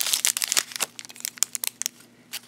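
Quick bursts of crinkling plastic, close and sharp, in irregular clusters with brief pauses between them, as a plastic bag from a bead kit is torn open during an unboxing.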